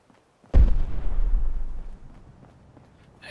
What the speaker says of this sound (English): Explosions happening just behind us.